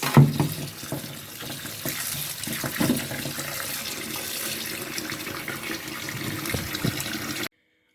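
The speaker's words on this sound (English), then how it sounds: "So I'm about to just wash my cherry tomatoes." Tap water runs steadily into a sink while cherry tomatoes are rinsed, a close, moderate splashing wash with small handling clatter, ending abruptly.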